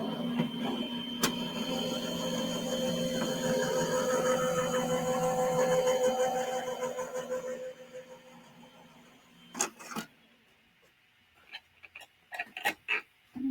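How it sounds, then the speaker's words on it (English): A card goes through a die-cutting machine with a cutting platform, giving a steady mechanical rolling hum with a ticking click. It stops partway, followed by a few sharp handling clacks and taps. "Put my cutting platform on top and run this through my machine."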